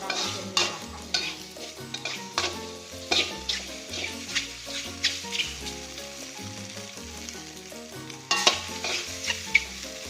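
Sausage stir-fried with chopped garlic in a pan, a steady sizzle punctuated by rhythmic scraping strokes of a spatula, close and continuous, with no voices.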